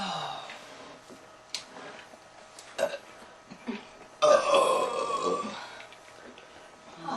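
Loud, drawn-out burps from girls, a couple of short ones followed by a long, rumbling belch, with some breathy gasps between them.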